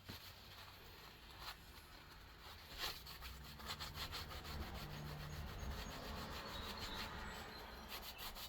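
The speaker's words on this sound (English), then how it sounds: "Scotch-Brite pad. You can see there, it's barely doing crap." A Scotch-Brite pad scrubs a motorcycle cylinder head from a 2006 Heritage, giving a steady, close abrasive rubbing that carries on without pause, with occasional sharper scrapes in the middle.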